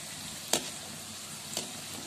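A chicken snack fries gently in a pan with little oil, a soft even sizzle with two brief sharp crackles or stirring clicks, no talking.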